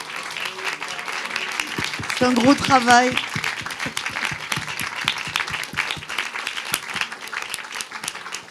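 An audience at a film festival pitch session in Brive applauds the presenters with dense, steady clapping that fills the room throughout, while a voice speaks over it.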